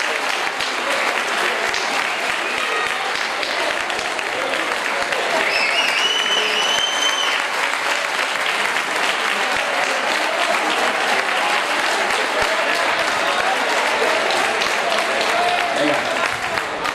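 Sustained, loud applause from a crowd at an award ceremony for a mountain bike race, cheering a female finisher in her first race, with clapping steady throughout and voices mixed in.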